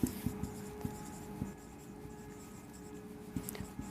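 Pen or marker writing out a statistics median formula during a class 10 maths lesson, with quick scratchy strokes and taps close up, short bursts separated by brief pauses, no voices.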